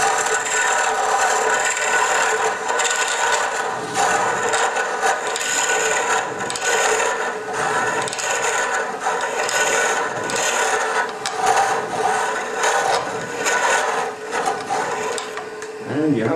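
A wood lathe spins at about 900 RPM while a tool cuts a hot air balloon ornament, a continuous close scraping and rubbing whir with fluctuating texture.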